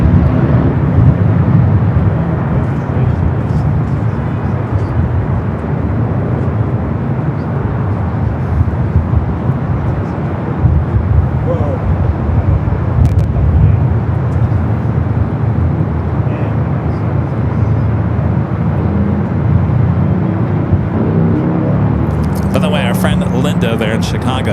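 A Turkish Airlines jet on its takeoff roll down runway 25R at LAX gives a steady, broad, distant roar under continuous talk throughout.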